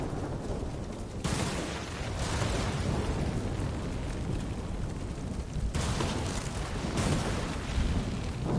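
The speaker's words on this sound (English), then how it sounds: "Yo, some lightning going on." Thunder rolls through a lightning storm in the game Ghost of Tsushima, heard as a steady, dense roar of rumble and rain with no break and no voices.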